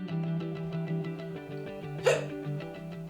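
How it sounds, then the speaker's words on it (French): A single abrupt hiccup, a quick sharp gulp, breaks in partway through over a steady, light musical background of sustained tones. "Quand on a le hoquet, le diaphragme se contracte de façon spasmodique et totalement involontaire."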